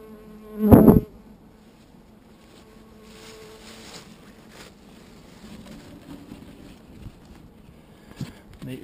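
Bees buzz faintly around a newly installed hive full of frames outdoors. A sharp knock comes early on, then a low, continuous hum lingers in the background.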